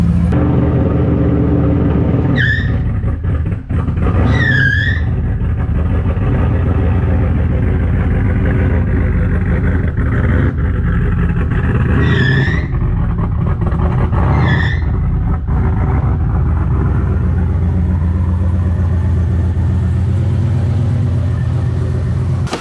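A car engine idles with a loud, uneven rumble, broken by several sharp rising whistle-like chirps, likely from a turbocharger, as the throttle is blipped, while the low engine rumble continues steadily throughout.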